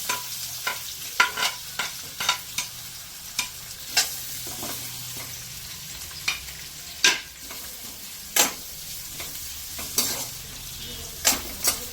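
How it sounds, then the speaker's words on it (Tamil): Sliced onions fry in a pan for a chutney and are stirred repeatedly, a utensil scraping in quick irregular strokes over a continuous soft sizzle, close by and with no talking. "இது நல்லா ப்ரௌன் ஆகிற வரைக்கும் நல்லா ரோஸ்ட் பண்ணிக்கணும்."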